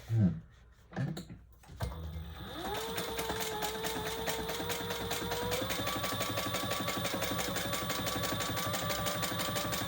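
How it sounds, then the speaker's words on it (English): After a few handling knocks, a sewing machine starts and runs steadily, top stitching across the ironed top edge of a Compass tote bag, its rapid needle rhythm close and continuous. "Now we're going to top stitch just across this top"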